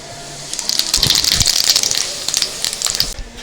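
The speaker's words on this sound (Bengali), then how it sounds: "এবার দিয়ে দিচ্ছি সাজিরে" Shahi jeera (caraway seeds) dropped into hot oil already holding whole spices set off a sudden loud, bright crackling sizzle that holds steady for a few seconds, close up, with no talking.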